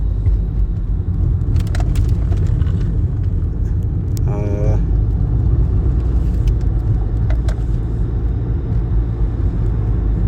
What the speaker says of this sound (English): As I'm driving, bear with me.